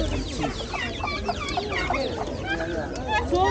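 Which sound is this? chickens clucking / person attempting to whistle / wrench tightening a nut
chickens clucking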